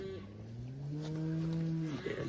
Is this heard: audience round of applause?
no